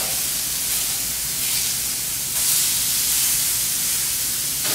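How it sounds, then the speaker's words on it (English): Meat searing in a hot pan gives a continuous, even sizzle and hiss, close and fairly loud, with no voices. "So we're not really cooking these, we're just searing the outside."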